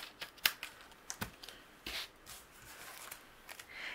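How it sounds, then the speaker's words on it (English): Quiet crisp snips and rustles of scissors trimming excess paper from a handmade card, a few short sharp cuts scattered over a few seconds, close by with no talking. "I'm just going to use my scissors and trim away the excess."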